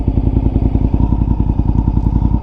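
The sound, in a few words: Honda RC51 motorcycle with aftermarket exhaust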